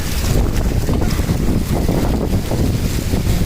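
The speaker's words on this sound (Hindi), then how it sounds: "बहुत तेज हवा चलने लग गई यार अचानक से" Strong, steady wind blasts a microphone outdoors in Mumbai during Cyclone Tauktae, a loud, continuous roaring rush with heavy buffeting and no clear pauses.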